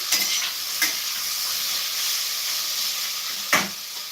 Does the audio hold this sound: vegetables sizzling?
yes